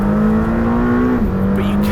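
Lamborghini Temerario engine pulling out of a corner on track, a steady loud tone that holds, dips briefly as the revs drop, then steadies again, with a voice talking over it.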